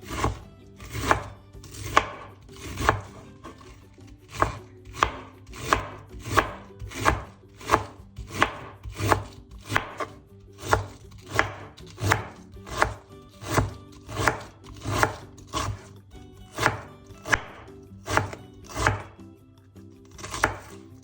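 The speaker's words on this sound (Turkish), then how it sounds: "Şimdi lahanalarımızı ince ince kıyıyoruz." A knife finely shreds cabbage for coleslaw on a board, steady rapid chops repeating evenly throughout, close and crisp, with no talking.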